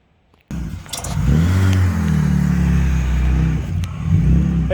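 A supercharged 1997 BMW M3 with a 3.2-litre straight-six engine roars to life and revs loudly and steadily up close, its deep rumble rising and falling slightly over several seconds.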